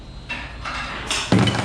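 A pneumatic hammer machine in a drumstick factory fires several sharp bursts of hissing air and knocks, with one heavier thud near the end, close and moderately loud over workshop noise.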